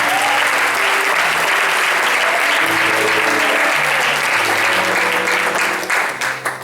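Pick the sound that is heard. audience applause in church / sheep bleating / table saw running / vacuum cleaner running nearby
audience applause in church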